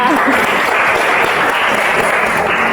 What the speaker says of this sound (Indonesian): beri aplaus untuk Rizka.